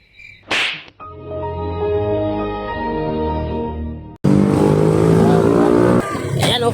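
A motorized tricycle engine runs close by, giving a harmonic drone that climbs in pitch as it revs up. After a sharp whip-like snap at the start, a louder, rougher engine roar takes over and continues to the end.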